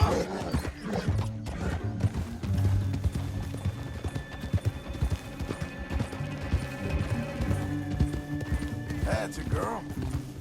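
Rapid hoofbeats thunder steadily under music and ambient game sound in Red Dead Redemption 2, a horse galloping at close range with an occasional whinny.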